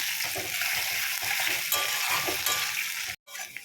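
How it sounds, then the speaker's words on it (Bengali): Onions sizzle steadily in oil, close and loud, with occasional stirring scrapes and a brief cutoff near the end. "পেঁয়াজটা ভালো করে ভাজা হয়ে গেছে"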